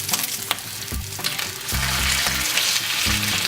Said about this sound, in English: the sweet sound of bacon sizzling